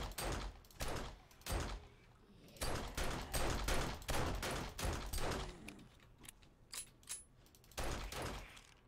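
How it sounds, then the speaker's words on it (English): Gunfire from the video game 7 Days to Die: a fast run of loud, sharp shots in uneven bursts with short pauses, filling the whole stretch, no talking over it. "Oh, I hear the gun zablazing."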